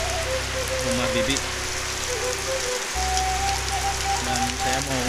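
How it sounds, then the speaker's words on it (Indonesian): Dense, steady patter of rain falling on a hard surface, loud and close, continuous throughout with faint voices and tones underneath. "Cuaca hujan wae."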